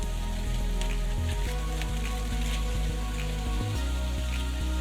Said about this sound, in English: So the next step is we put the beef in.